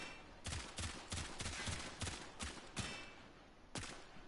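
Gunfire aimed at an enemy's head in the video game Warframe: about eight sharp, loud shots in an uneven rhythm, fired in quick pairs and singles with short pauses, close and alone without speech.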